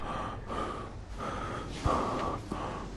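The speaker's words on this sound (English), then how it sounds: "I'm breathing heavily." A character in the survival game The Forest breathes heavily and alone. Several rhythmic, close, breathy exhalations come with a short snort-like burst near the middle.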